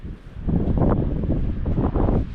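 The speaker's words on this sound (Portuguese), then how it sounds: "Aqui parece ventar muito, mano. Parece um corredor de vento." Strong wind blows outdoors in a windy corridor at Villa O'Higgins at the end of the Carretera Austral, a steady loud buffeting roar with low gusts battering the microphone.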